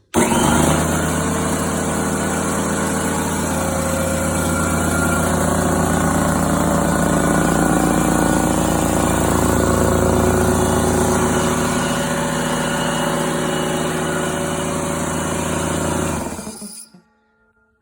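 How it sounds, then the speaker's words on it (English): A DeWalt 27 gallon air compressor runs with a loud, steady motor drone and hum for about sixteen seconds, then shuts off abruptly into silence. "I'm turning on the DeWalt 27 gallon."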